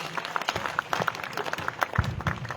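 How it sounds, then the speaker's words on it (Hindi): An outdoor crowd at a Hindi comic poetry gathering in Ratangarh claps steadily, a dense patter of many hands at moderate loudness. "एक बार दोनों हाथ उठा करके तालियां बजाइए"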